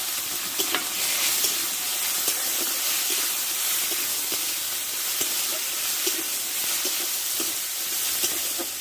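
Ginger paste, tomato and turmeric sautéing in oil: continuous bright sizzle with frequent spatula scrapes and stirring clicks, close and even, no voices.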